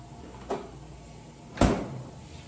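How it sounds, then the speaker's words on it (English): A refrigerator door swings shut in a home kitchen with a soft thud and a dull seal bump, after a lighter knock a second earlier, all over a steady background hum. "I just realized I left my refrigerator door open."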